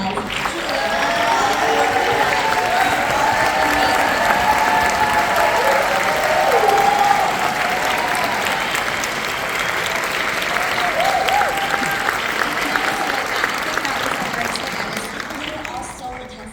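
A theater audience gives a team a sustained round of applause at a shorts screening at the Egyptian Theater, a steady wash of many hands clapping, with voices faintly mixed in, slowly fading near the end.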